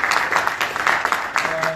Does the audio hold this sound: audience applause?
yes